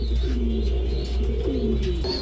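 King pigeons coo in a pet pigeon sale setting, several low rounded rolling coos repeating in close succession, clear and near against a light steady background hiss.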